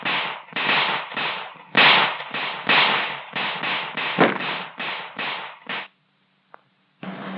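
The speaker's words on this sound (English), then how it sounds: "the recruit learns how to squeeze them off accurately with the MP's own primary weapon, the .45 automatic" .45 automatic pistol fired on a military police range, roughly a dozen sharp shots in a quick, even rhythm, followed by a pause and one more report.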